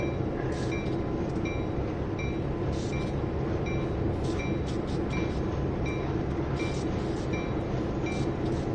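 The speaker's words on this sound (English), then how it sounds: "It's because the train's moving" Locomotive rolling along the Oakville Subdivision in Train Sim World 2 with a continuous loud rumble and a regular, repeating rhythm of high-pitched clicks and ticks, steady and close throughout with no talk.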